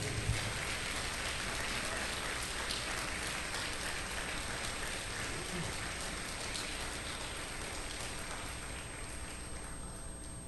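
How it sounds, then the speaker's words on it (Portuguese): Congregation applause in a church, a long, steady, rain-like patter of many hands clapping at a moderate, even level for about ten seconds with no talking over it. "dê uma salva de palmas para Ele"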